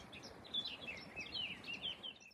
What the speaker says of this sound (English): We hear beautiful bird song,